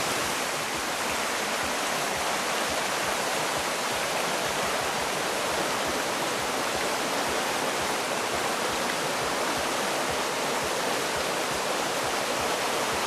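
Moose Brook on a farm flows steadily nearby, a constant broad rushing wash of water with no pauses and no voices.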